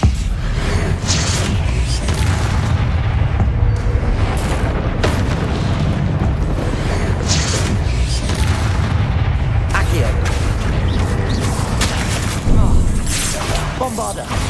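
Booming blasting-spell explosions from Bombarda in Hogwarts Legacy, heavy and rumbling throughout, mixed with fire spells and a voice casting under a constant loud barrage.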